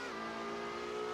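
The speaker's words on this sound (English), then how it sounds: "the startup for this car is out of this world" Car engine in the Driving Empire video game holding a steady, loud tonal drone with stacked harmonics, a continuous idle-like hum right after startup with no voices.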